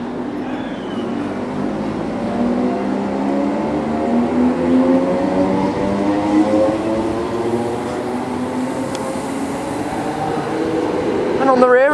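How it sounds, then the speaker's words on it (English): Greater Anglia Class 321 electric multiple unit pulling out of Chelmsford station, a steady rising traction whine and rumble lasting throughout at moderate distance, with faint station ambience. "Departing now is going to be the 1440 Greater Anglia service to London Liverpool Street from Ipswich."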